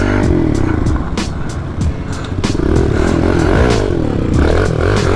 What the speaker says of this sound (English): we all got pit bikes today!